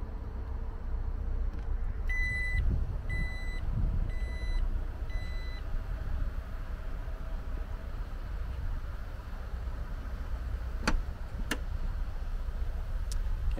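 Power liftgate of a 2019 Jeep Grand Cherokee Limited gives four evenly spaced electronic warning beeps over a steady low rumble, with a couple of sharp clicks later.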